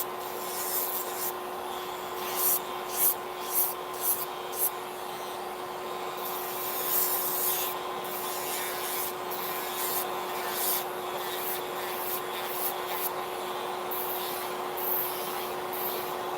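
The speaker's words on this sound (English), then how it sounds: "it's the sanding band, and I just do it to thin out" A steady mechanical whine of a nail drill with a sanding band thinning nails during nail removal runs throughout, with bursts of gritty sanding texture and brief scraping pulses, close and continuous with no talking.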